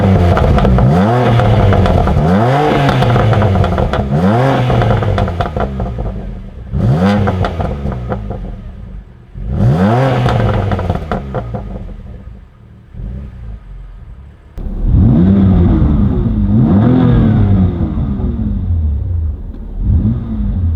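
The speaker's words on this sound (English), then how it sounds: "that's when the valves open and you get the best exhaust note" A BMW M2 Competition revs hard several times in a row with exhaust valves open, each throttle blip rising to a loud, rasping exhaust roar and dropping back to a burbling idle.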